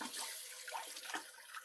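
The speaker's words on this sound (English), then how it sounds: "Let me rinse my hands once more" Tap water runs steadily over hands being rinsed at a kitchen sink while bacon and Brussels sprouts cook, a soft continuous splash with small shifts as the hands move under the stream.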